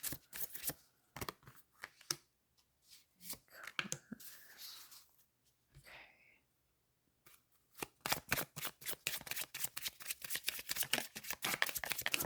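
Tarot cards being shuffled by hand during a card reading, a run of crisp riffling and tapping bursts with pauses, building into a steady, denser patter toward the end.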